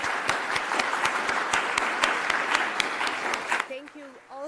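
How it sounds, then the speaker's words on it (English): Applause from a conference audience at SDEWES 2021 following a presentation, with sharp individual claps standing out in a moderate, fairly close room before fading into brief speech at the end. "Please join me in applauding Dr. Rogelj for this excellent presentation."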